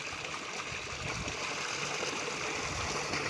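Steady rushing water pours continuously, a broad even hiss of gushing flow without pause.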